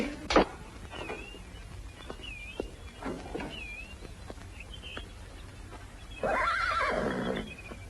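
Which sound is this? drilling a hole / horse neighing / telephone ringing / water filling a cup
horse neighing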